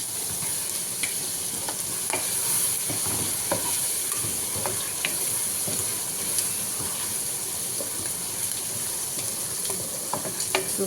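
Prawns and potato biryani fry and get stirred in a pan, a steady soft sizzle with scattered scraping clicks of the utensil throughout, no voices.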